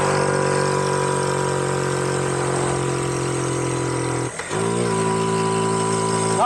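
A small Honda Cub motorcycle engine labors hard in second gear up a steep hill, a loud, steady, high-revving drone close to the rider that dips briefly, as if shifting, then carries on straining.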